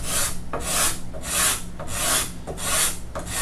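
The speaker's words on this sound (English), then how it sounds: "In the transitions, I'm still going to want to use finer rasps" A rasp works along a wooden guitar neck in steady rhythmic strokes, about six bright, coarse scraping passes with brief pauses between, close and loud with no talk.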